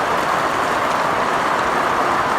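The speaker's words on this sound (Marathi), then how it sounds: "बाहेर प्रचंड पाऊस पडतो" Heavy monsoon rain pouring down outdoors in the Konkan coast region, a dense, loud and unbroken hiss of downpour that holds evenly with no voices.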